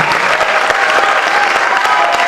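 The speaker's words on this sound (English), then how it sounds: "let's give him a little round of applause" Loud, dense applause from a variety show audience welcoming a performer on stage, many hands clapping in a continuous close roar.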